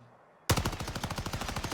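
Rapid semi-automatic Volkssturmgewehr rifle fire from a video game, a close, loud string of about twenty evenly spaced shots that bursts in suddenly after near silence and keeps going to the end.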